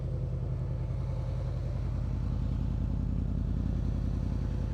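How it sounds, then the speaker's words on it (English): A motorcycle with a Delkevic titanium exhaust idles nearby with a steady, low, pulsing exhaust rumble that stays even throughout, no voices. "You can hear it idling."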